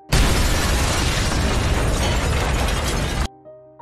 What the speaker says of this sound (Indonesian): Setelah mereka pergi dari rumah itu, rumahnya meledak dan membunuh orang-orang di dalamnya.